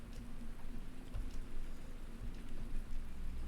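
Rain falling in Farming Simulator 19, a steady even downpour hiss with low rumbling undertone, continuous and moderately loud with no talk.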